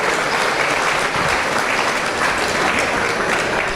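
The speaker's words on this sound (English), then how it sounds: "let's give all 12 of these young folks, as well as their counterparts, a round of applause" Dense, sustained applause from an audience at a beef cattle showmanship event for twelve young showmen, loud and continuous crowd clapping with no pauses or voices above it.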